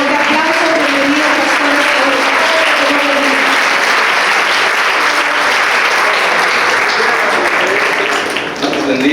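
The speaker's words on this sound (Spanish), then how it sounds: "Vamos a recibirlo con un fuerte aplauso." A church congregation claps loudly in sustained, dense applause to welcome a pastor, steady and close for about nine seconds and easing slightly at the end.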